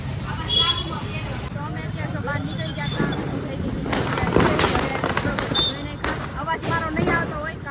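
Diwali firecrackers pop and crackle repeatedly in the distance among traffic noise and a murmur of voices, with sharp bursts clustered near the middle.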